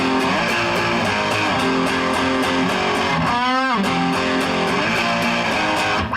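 A distorted electric guitar chugs through a riff, loud and up close, with a brief scraping slide partway through and no voices.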